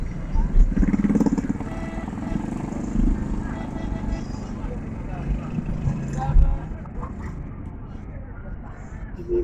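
Motorcycles and rickshaws moving through a congested market street in a Sindh, Pakistan village, engines buzzing and passing close in a continuous rumble while someone talks over the traffic.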